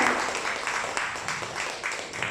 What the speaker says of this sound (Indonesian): Boleh minta tepuk tangan yang luar biasa dong untuk kita semua.